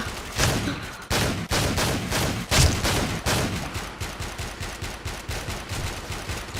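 Rapid shotgun and gunfire blasts from the Warmode online shooter pop in a dense, irregular volley, loud and close at first and then continuing as quieter, steady shots.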